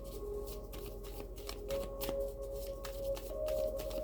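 Oracle cards being shuffled and drawn by hand, a steady run of crisp papery riffles and flicks at close range with no talking.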